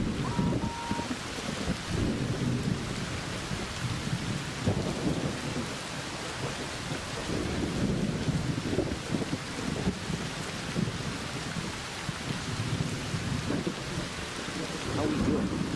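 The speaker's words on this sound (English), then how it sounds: "an electromagnetic storm is currently raging over topside. Beware the lightning strikes if you're outdoors." Electromagnetic storm raging outdoors, with constant heavy rain, wind buffeting and repeated thunder rumbles and crackles over nearly sixteen seconds.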